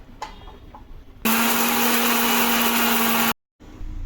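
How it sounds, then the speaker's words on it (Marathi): A mixer grinder pulverising sugar with cardamom, starting after some faint handling clatter, then a loud steady motor whir with grinding rattle for about two seconds, cutting off abruptly, a short silence, then faint background noise. "ही साखर घेतली आहे, ही बारीक पिसून घेणार आहोत आणि त्याच्याबरोबर ही वेलची आपण साखरमध्ये टाकून पिसून घेऊया"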